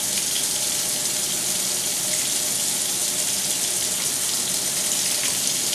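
Tap water runs steadily into a sink while makeup brushes are washed, a constant close rushing stream with no pauses.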